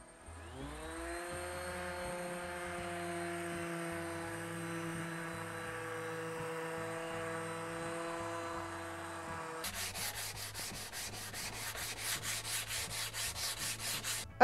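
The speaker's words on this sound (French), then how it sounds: "Donc c'est parti pour le ponçage." A power sander runs steadily on a wild cherry wood cutting board with a smooth, close whirring drone, then switches to a rougher, pulsing scrubbing texture near the end.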